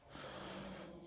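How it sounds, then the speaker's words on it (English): A sleeping man snores with a breathy, snorting rasp, one drawn-out rough inhalation filling the moment, heard close and fairly quiet with no talking. "as you can hear, he's snoring like a trooper"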